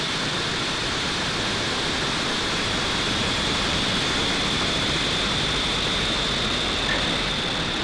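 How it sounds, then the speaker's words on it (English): Loud, steady broadband roar from a SpaceX Falcon 9 rocket at ignition and liftoff on a communications satellite launch, sustained without a break like rushing wind or a waterfall. "Ignition and liftoff of Falcon 9."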